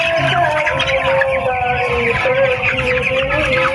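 Broiler chickens cluck and chatter steadily on a small poultry farm, a dense continuous flock sound close by with no pauses.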